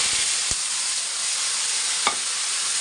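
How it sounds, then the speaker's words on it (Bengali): Panch phoron spices sizzle briskly in hot oil, a constant crackling hiss interrupted by two sharp knocks of a spoon against the pan. "একটু পাঁচফোড়ন দিয়ে দিচ্ছি তেলের মধ্যে"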